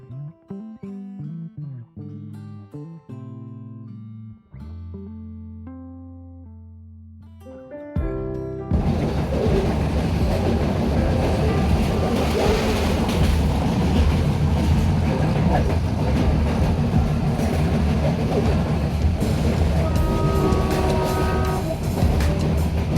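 Passing train on a small-station line between Somnath and Sasan Gir in Gujarat, heading back to Veraval, turns into a loud, steady close-up rumble and rush after a quieter tonal opening.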